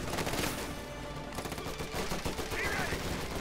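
Rapid rifle and machine-gun fire rattles through a Company of Heroes 2 battle in a one-versus-one match, dense overlapping bursts mixed with game effects, fairly quiet overall.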